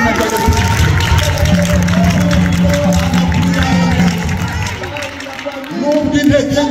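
A church congregation applauds during a Kinyarwanda worship service, a loud, steady wash of clapping and crowd noise with musical tones and voices underneath, dipping briefly before swelling again.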